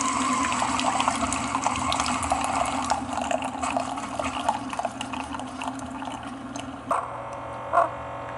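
A Keurig coffee maker brews hot apple cider, a steady hiss and gurgle of pumped hot liquid running the whole time, with a couple of brief clicks or sputters near the end.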